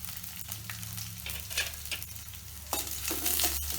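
Onion sizzling in hot oil while tempering for kodo millet sambar, a steady fry with stirring scrapes, close and fairly loud, with no talking.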